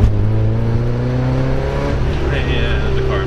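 A Porsche pulls hard in second gear, its loud engine drone rising steadily in pitch throughout from inside the car, with a faint higher whine creeping in near the end.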